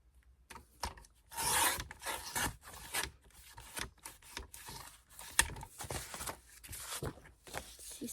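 Paper card being cut for scrapbooking, with irregular rasping, rubbing strokes of a blade or trimmer and small clicks that come and go, quiet and close with no talk.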